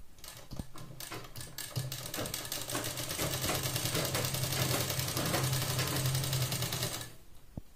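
A sewing machine stitches a blouse, running in a steady rapid mechanical rattle close up for several seconds before stopping abruptly, with a single sharp tap near the start.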